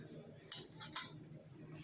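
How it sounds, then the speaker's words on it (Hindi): A spoon stirring coffee face mask ingredients with coconut oil in a bowl gives a few sharp close clinks and taps over roughly a second, separated by quiet scraping. "इसको हम अच्छी तरह से मिक्स कर लेंगे।"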